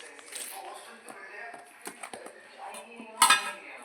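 White plates clink and clatter lightly while people talk nearby, ending with one louder, sharp ceramic clink.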